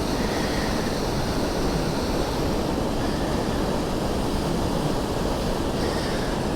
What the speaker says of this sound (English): Oh, heck yeah, there's water going down.